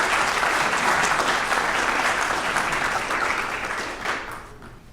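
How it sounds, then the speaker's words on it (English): Sustained audience applause at a recognition dinner, a full room of hands clapping loudly and evenly before gradually tapering off. "Give her a round of applause."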